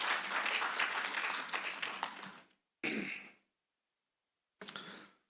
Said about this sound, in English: you guys deserve a big round of applause for that